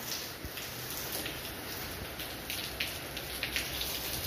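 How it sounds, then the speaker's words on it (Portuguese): Light rain falls steadily on a garden with plants, a soft continuous patter with scattered drops close by and no voices. "E olha lá a chuvinha."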